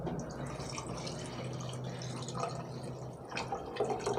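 Water poured into a pressure cooker over prawn biryani gravy, a steady close splashing and trickling stream that runs continuously for a few seconds with a slight surge near the end.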